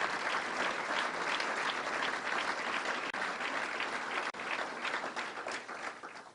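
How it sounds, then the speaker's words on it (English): Applause from the audience at a government announcement about making the state fair green, dense and sustained for several seconds at moderate loudness, then tapering at the end. "that's a good point for applause right there"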